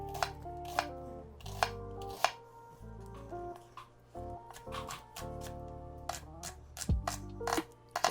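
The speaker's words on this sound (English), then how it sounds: "For me, I think it's just as easy to chop." A knife chops onions into half-moon slices, giving crisp, irregular cuts against a board over steady background music.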